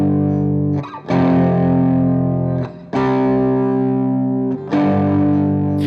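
Distorted electric guitar power chords from a song's second guitar part ring out in three long, loud sustained strikes, each decaying before the next hit.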